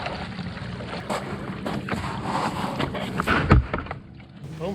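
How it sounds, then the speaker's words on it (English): Steady rumble of a small boat's motor on Loch Lomond with water sloshing and wind buffeting the microphone, continuous and close throughout. "So I'm moving the boat"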